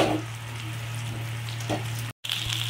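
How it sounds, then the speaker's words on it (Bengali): Eggs frying in a wok (kadai) for a restaurant-style chowmein give a steady, close sizzle, with a few faint scrapes of stirring and a brief cut near the end. "ডিমগুলো ভাজা হয়ে গেছে, আমি বেশি ভাজবো না, একটু হালকা করে ভাজলাম।"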